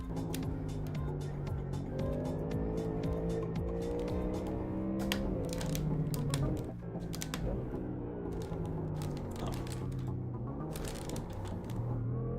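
A Mustang GT3 race car engine in a racing video game drones steadily at high revs with shifting harmonic tones, a dip and gear change midway, and faint clicking ticks layered over the continuous engine sound.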